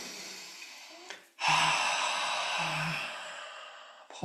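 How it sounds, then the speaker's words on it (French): A deep, audible breath during Kundalini yoga practice: a sharp inhale followed by a long, steady exhale through the nose, close and clear, with a soft tonal background and no talk. "Et on expire profondément."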